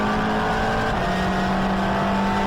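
A BMW race car engine drones loud and steady from onboard during a Donington track race, a sustained high mechanical roar with no voices.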